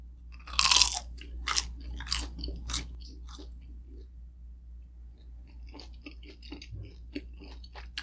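Crispy fried pork intestines (isaw) are bitten and chewed up close, with several sharp crunches early on, then softer chewing and smacking, all quiet with no speech.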